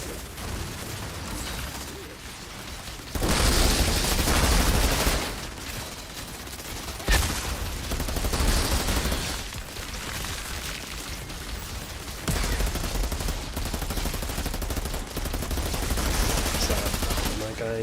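A Gatling gun in the Outriders shooter spins and fires in long, dense bursts. The loud, sustained chatter breaks off between volleys, while a voice talks faintly in places.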